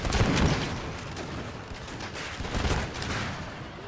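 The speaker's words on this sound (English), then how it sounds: "the Prussian cavalry is riding straight into our gunfire" Rolling volleys of musket fire in a video game crackle and pop continuously with dull booms, a dense ragged battle din at moderate distance without speech.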